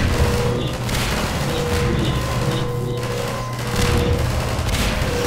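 Steady gunfire and blasts from a firefight in the first-person shooter Half-Life 2, a continuous dense barrage with repeated booms running for several seconds at high volume, with no clear talk over it.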